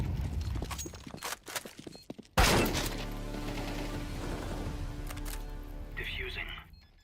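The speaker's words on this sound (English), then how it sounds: "Throwing flashbang." A flashbang grenade in a Counter-Strike-style game sets off a sudden sharp bang, followed by a long ringing tone that fades out, with small game clicks and footsteps before and after it.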